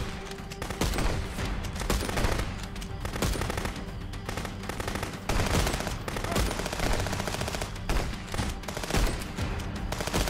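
Rapid, dense automatic gunfire in the police smuggling game Contraband Police during a raid on a lumber mill, loud and continuous bursts filling the whole stretch with almost no pause.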